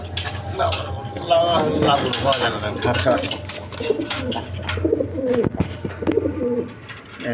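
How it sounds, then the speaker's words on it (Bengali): A pair of big red Maltese pigeons, a male and a female, coo close by in a loft, their soft repeated calls running under someone talking throughout. "এখানে এক পেয়ার মাল্টেস কবুতর আছে, দেখেন কোয়ালিটি সম্পন্ন কবুতর"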